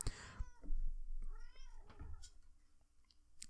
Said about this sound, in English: That was my cat interjecting.